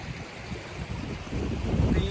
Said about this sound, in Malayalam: പീസും വെള്ളച്ചാട്ടത്തിൻ്റെ സൗണ്ട് മാത്രമേ ഉള്ളൂ.